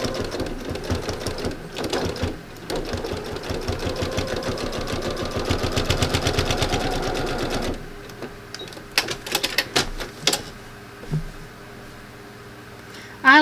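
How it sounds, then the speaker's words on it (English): A sewing machine runs straight stitching for thread painting a beach landscape, a fast steady mechanical chatter in several bursts with brief pauses and clicks between them, fairly close. "I'm just going to do some straight stitching."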